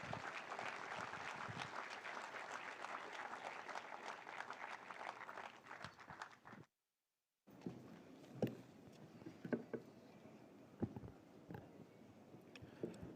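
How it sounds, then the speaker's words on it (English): Audience at the Chennai Super Kings IPL 2021 victory celebration applauding as the BCCI Honorary Secretary is called up, a full dense burst of clapping that cuts off, then resumes as thinner, scattered claps. "Would you please greet him with a strong round of applause"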